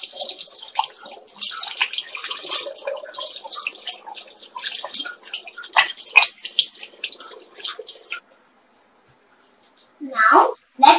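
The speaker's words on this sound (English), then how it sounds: "Now, wash your hand." Hands washed under running water at a sink, with splashing and trickling that come and go in irregular bursts, then a short pause and a few final splashes.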